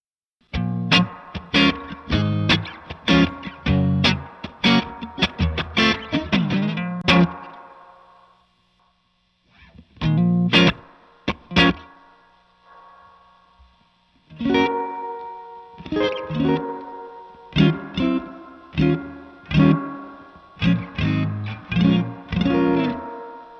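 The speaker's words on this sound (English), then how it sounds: "Here's hall reverb." Electric guitar played through a Boss RE-202 Space Echo pedal on its hall reverb setting: bursts of chords and picked notes with long washy tails, broken by a short near-silent pause before the playing resumes.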